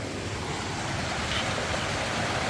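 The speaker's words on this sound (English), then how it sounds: "Got a nice little cascading waterfall here." Small cascading waterfall on Wilson Creek along the Appalachian Trail, a steady broadband rush of falling water, close and continuous with no voices.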